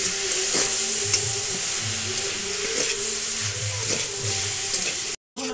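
Grated coconut with sugar and a little water is stirred in a pan for coconut sweets, a constant close sizzle broken by rhythmic scraping strokes, ending in a brief cut.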